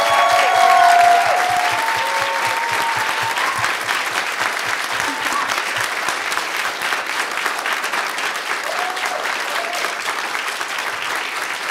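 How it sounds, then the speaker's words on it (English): Sustained audience applause at a panel discussion on EDM festival safety, a dense wash of many clapping hands that swells loud at the start and holds steady throughout, with faint murmurs of voices underneath. "Can we just give her another round of applause?"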